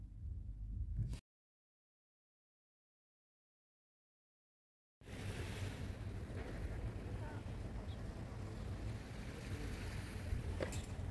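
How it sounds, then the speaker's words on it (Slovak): Water runs from a shower mixer tap in a bathroom in Cyprus: a steady, close, broadband rush that starts abruptly after a few seconds of silence and continues evenly to the end. "A nakoniec len malá ukážka sprchovej batérie."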